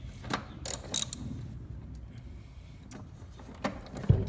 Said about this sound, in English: and then we are going to use the wrench to fix it.